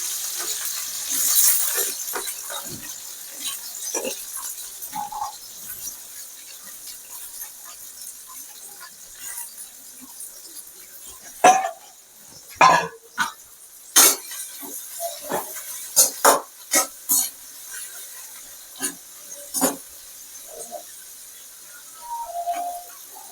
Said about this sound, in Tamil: கடுகு நல்லா பொரிஞ்சிட்டு அடுத்தது இந்த பாவக்காயை நம்ம அதில் போட்டுருக்கணும்